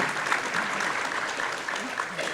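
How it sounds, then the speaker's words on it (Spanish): An audience at a business financing forum applauds steadily, a dense, even wash of clapping that lasts throughout. "Damos un aplauso"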